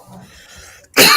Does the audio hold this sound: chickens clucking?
no